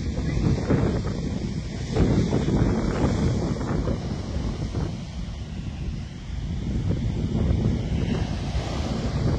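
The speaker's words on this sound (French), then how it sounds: "Ah, le bruit que ça fait, les vagues." Huge ocean waves, five to six metres high, crash and roar continuously at Nazaré beach, with strong wind buffeting the microphone throughout. The surf is a loud, dense wash with no voices.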